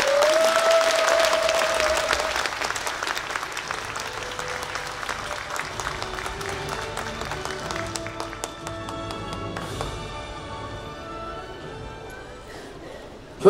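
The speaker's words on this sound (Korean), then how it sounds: "박수로 모시겠습니다." A large audience applauds to welcome a presenter onstage at the 2018 MBC Gayo Best year-end music awards, loud sustained clapping that slowly fades, with an announcer's voice over the start.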